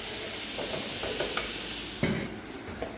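Chicken curry frying in a pan, a steady sizzle and hiss with soft scraping stir strokes and a clink of the spoon, close and continuous.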